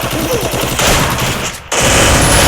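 Automatic gunfire in the Free Fire battle royale game, a dense rapid burst running nearly throughout, with a brief gap midway before the loud firing resumes.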